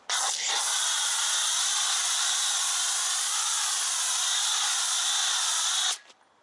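Foam cannon spraying foam onto a Shelby GT350R during a car wash, a loud continuous hiss that starts abruptly, holds steady for about six seconds and cuts off.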